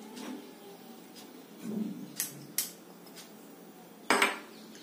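A spoon stirring peanut, garlic, red chili and spice stuffing for stuffed brinjal, heard as soft scraping with several light metallic clinks and taps against a bowl, fairly faint and spaced out.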